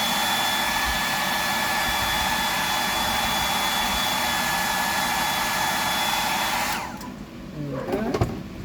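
Loud, steady whine of a hair dryer blowing on freshly painted fishing lure, running continuously before cutting off near the end, followed by a few light handling clatters.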